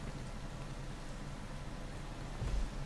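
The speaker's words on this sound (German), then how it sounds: "Also wir haben seit etwa 2 Stunden Regen." Heavy storm rain keeps up a steady dense hiss and patter with a low rumble underneath, fairly faint overall, with a brief thump near the end and no talk.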